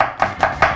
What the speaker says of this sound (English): So we're just gonna give it some thin slices.